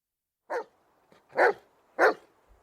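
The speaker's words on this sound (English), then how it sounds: "Only the dog." A dog barks three times in sharp, close bursts with short pauses between them, set in a quiet room in a Sweeney Todd audio drama.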